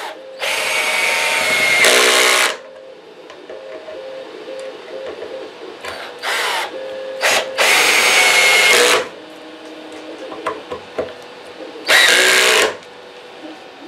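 Power drill driving the neck screws into a DIY guitar kit, several loud whirring bursts of a few seconds each with quiet gaps between them, close up, with faint clicks and handling sounds in between.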